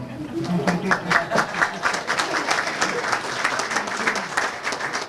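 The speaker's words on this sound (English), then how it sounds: "Oh, come on, you can applaud better than that." Steady applause fills a civic State of the City event, with a crowd clapping continuously at moderate volume and voices faintly mixed in beneath.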